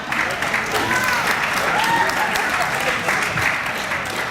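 Steady, dense applause from an audience fills the whole stretch at a constant loudness, with voices murmuring and calling faintly underneath.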